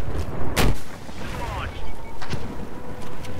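Battlefield 4 tank combat plays out with loud booming cannon blasts and scattered gunfire, plus some whooshing, as players talk over it.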